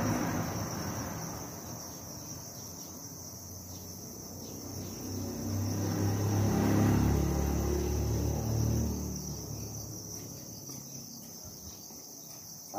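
Large winged crickets at a cricket farm, a dense continuous high chirring drone from many insects, steady throughout with a low rumble swelling in the middle.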